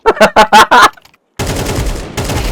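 A quick burst of rapid gunfire in Counter-Strike 2, sharp evenly spaced shots opening the clip, then a short gap before a denser rumbling spray of shots and game noise.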